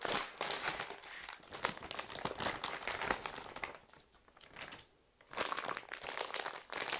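Close, continuous crinkling of a plastic bag as it's pulled open, with a brief quieter pause before the rustling resumes.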